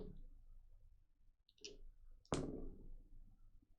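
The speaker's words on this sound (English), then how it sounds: "It's a lot of die I'm hearing." Several dice clattering on a table during a Dungeons & Dragons tabletop session, heard as quiet scattered clicks and rattles followed by one sharper, closer tumble near the end.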